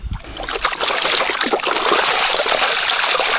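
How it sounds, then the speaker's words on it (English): Water splashes and sloshes continuously and close by as gold paydirt is speed panned, a busy churning wash of swirling water that stays loud throughout. "This is me speed panning"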